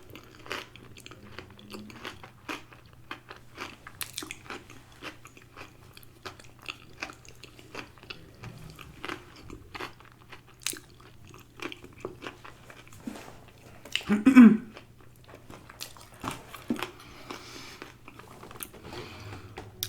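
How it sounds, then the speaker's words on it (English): Crunchy chips bitten and chewed with a cheesy lobster dip, soft scattered crunches through a quiet stretch with one louder bite near the end, no talking. "You guys want that bite of lobster cheesy dip?"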